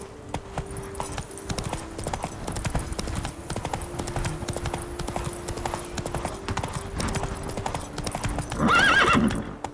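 A horse gallops in The Witcher 3: Blood and Wine, with steady, rapid hoofbeats running throughout and a loud whinny near the end.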